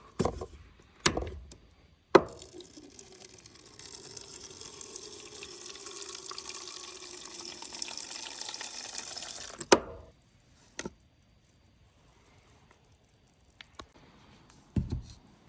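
Maple sap runs from the tap of a storage tote into a sample container, a steady pouring stream lasting several seconds, framed by sharp clicks and knocks of the valve and container, with no voices.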